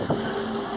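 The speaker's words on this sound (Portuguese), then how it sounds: "a saída do navio motor Marlene Coimbra que segue" The motor ship Marlene Coimbra pulls away on a river, bound for Manaus, giving off a steady low engine drone with a faint tonal hum and some wind rush throughout this brief moment.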